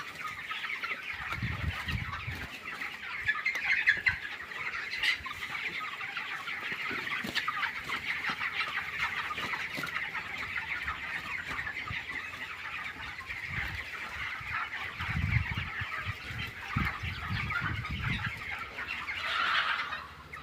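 A crowd of young chickens in a poultry farm shed keeps up a dense chorus of clucking and chirping throughout. Occasional low thumps and bursts of wing movement can be heard underneath.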